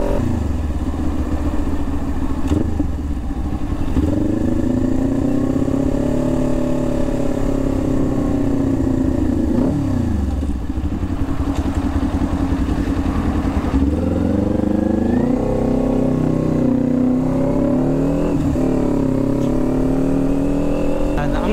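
A Kawasaki Ninja 400 sports motorcycle engine idles and revs repeatedly nearby, pitch rising and falling with each throttle blip, loud and continuous throughout.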